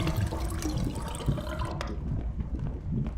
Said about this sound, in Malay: why you flush the toilet?